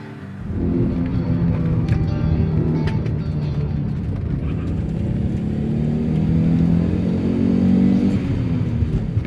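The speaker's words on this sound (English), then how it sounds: "I drive a 1983 Audi Quattro Turbo Coupe." A 1983 Audi Quattro Turbo Coupe engine idles and then revs, a loud rumbling drone that rises and swells toward the end, with no talking.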